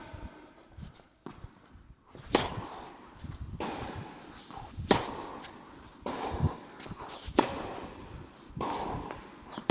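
Tennis ground strokes hit with a Babolat Pure Strike racket, a series of sharp ball impacts every second or two over a steady court-side hum with faint rustling between shots.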